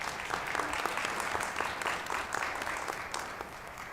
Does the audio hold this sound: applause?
yes